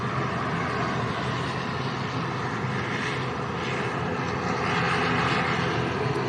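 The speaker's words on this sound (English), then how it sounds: "Enter and Discover Airlines taxiing out as well" A Discover Airlines jet taxiing out at Lanzarote Arrecife airport, a steady broadband engine roar heard from a moderate distance, holding level and swelling slightly near the end.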